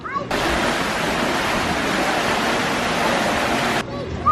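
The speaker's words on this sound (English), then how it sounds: "it bubbles and runs through a little chute from the building outside, and it tumbles slowly all the way down" Water bubbles and tumbles down a small chute into a hotel pool, giving a steady, close rush of splashing and gurgling that runs evenly throughout.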